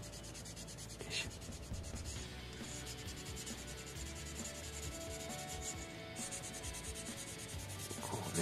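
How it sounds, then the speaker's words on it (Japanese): Close, continuous rubbing of sandpaper over the plastic body of an R35 GT-R LB Works scale model kit, a dry, even scratchy hiss that keeps going for several seconds with no talking. "これはね大事にこっちから削りましょう"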